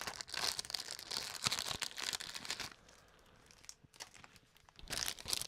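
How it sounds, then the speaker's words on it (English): Packaging for new fly tying scissors crinkles and tears close up, loud crisp bursts separated by a quieter pause. "we can also open the new scissors."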